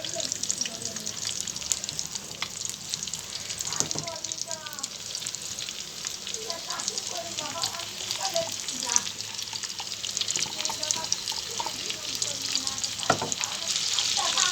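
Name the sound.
fish pieces frying in a pan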